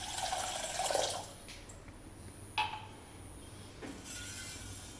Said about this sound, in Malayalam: 2 ഗ്ലാസ് വെള്ളം അതിലേക്ക് ഒഴിക്കുന്നു